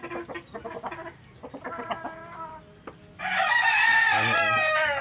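A rooster, a Sweater Gilmore broodcock, crows loudly and close up after several seconds of chickens clucking in quick, irregular bursts, with faint talk in the background.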